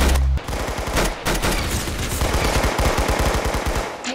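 Rapid automatic gunfire in the Roblox game Arsenal comes as loud, close bursts. After a short pause it continues as a steady stream of evenly spaced shots.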